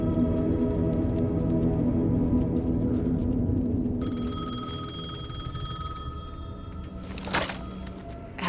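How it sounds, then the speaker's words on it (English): Payphone ringing in the video game Alan Wake 2, a metallic electronic ring that sounds over a dark droning ambience, with a short sharp clunk near the end. "The payphone was ringing."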